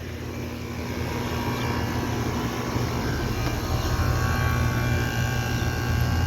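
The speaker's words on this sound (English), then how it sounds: "here's this Goodman starting up. It's got a cope and scroll compressor." A 2019 Goodman GSX14 3-ton outdoor air conditioner with a Copeland scroll compressor starts up, giving a steady, broad whooshing roar that swells slightly and then holds constant, with no talking.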